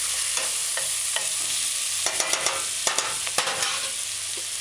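Chicken and bok choy being stirred in a pan with a splash of distilled white vinegar, a steady sizzle broken by a run of sharp spatula clicks and scrapes against the metal, close and without talking.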